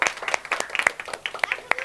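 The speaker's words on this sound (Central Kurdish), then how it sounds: "چەپڵەیەک بۆ خۆتان" A group of children claps in scattered, uneven bursts, light sharp hand claps close by over a short stretch.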